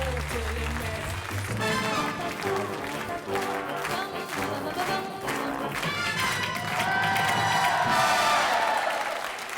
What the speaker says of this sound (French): je voudrais que nous applaudissions fort Monsieur Beachpot